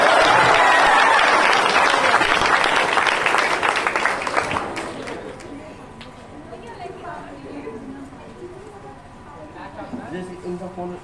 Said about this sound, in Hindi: इस पे भी ताली बजाओ यार